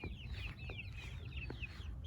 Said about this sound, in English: This rooster is the one that was living back up on the hill by Bree's horses.